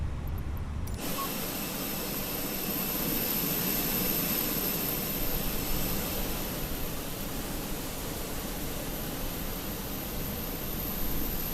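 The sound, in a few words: Fenix A320 jet engines during pushback, Microsoft Flight Simulator video game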